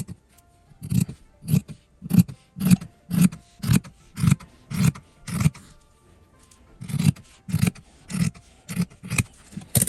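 Scissors cut through a 2.5-inch quilting fabric strip in a long series of crisp, rhythmic snips, about fifteen close, clear strokes with a brief pause midway and no talking.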